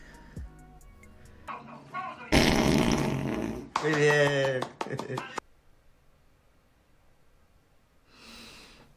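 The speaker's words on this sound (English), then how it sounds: "wouldn't farting on an open flame be an issue?" Comic fart noises in a scene from the film Skins, where someone breaks wind at a birthday cake topped with lit candles. Loud raspy bursts arrive in the middle, with speech before them and a faint hiss afterward.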